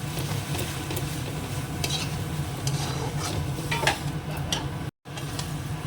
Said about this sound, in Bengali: মাংসটা দিয়ে দিয়েছি এবার মিশিয়ে কষিয়ে দেবো